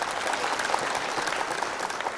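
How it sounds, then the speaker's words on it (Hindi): A comedy poetry gathering's audience claps steadily and fairly loudly, a dense patter of many hands with no break. "एक बार तालियां बजाए जोरदार भाई साहब के लिए।"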